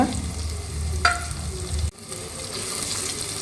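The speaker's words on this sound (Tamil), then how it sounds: "சேர்த்து நல்லா வதக்கி விடுங்க" Split green chillies and tomatoes frying in oil for a fish curry, a loud close sizzle with quick stirring scrapes that cuts off abruptly partway through.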